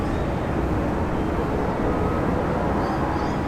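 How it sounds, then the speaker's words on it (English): A Fiji Airways Airbus A350 rolls down runway 16 right at Sydney International Airport, a steady, distant jet roar that holds evenly throughout with no voices. "Fiji A350, runway 16 right. Rolling start, clear for takeoff"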